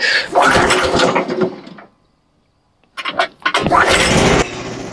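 A Frontier OS27 sawmill engine is started, its loud broadband running noise cutting out briefly in a gap of near silence before catching again and roaring steadily up close.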